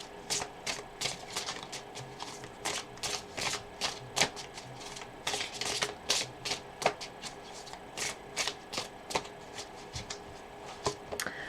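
Tarot cards being shuffled by hand, a close, crisp run of riffling bursts and soft slaps repeating in an uneven rhythm, with no talking.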